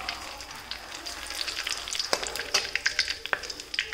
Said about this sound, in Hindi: तेल जब गर्म हो जाए तो हम इसमें डाल देंगे आधा छोटा चम्मच जीरा, चार लौंग, एक सूखी लाल मिर्च को तोड़ के हम डाल देते हैं